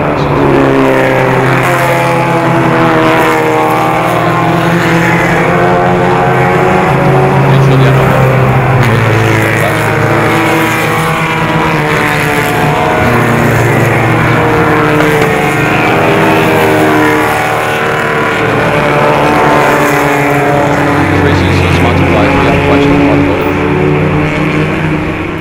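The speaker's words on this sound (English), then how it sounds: "I looked out at the pack of cars as they came by us" Vintage production race cars under 1.5 litres, racing in a group at the Pittsburgh Vintage Grand Prix, roar past as a pack in a loud, steady blend of engine notes that rise and fall as the cars come through.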